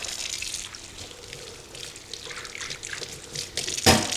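Running tap water rinsing a juice press drip cup in a sink, a steady trickle with splashes and sloshing as the cup is moved under the flow, ending in a brief sharp clatter.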